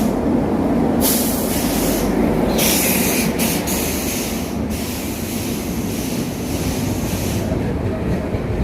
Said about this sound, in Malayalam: നമുക്ക് പോകാനുള്ള വണ്ടി സ്റ്റേഷനിലേക്ക് വന്നുകൊണ്ടിരിക്കുന്നുണ്ട്.